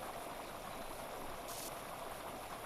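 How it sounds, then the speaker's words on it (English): Water in Power Wash Simulator: a quiet, continuous hiss of spraying water, steady and unbroken, with no talk. "Just the sound of water."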